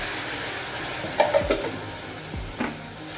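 Tomato puree sizzles into an oil-free masala for whole white peas chole, a soft steady hiss punctuated by a few sharp spattering pops and stirring scrapes.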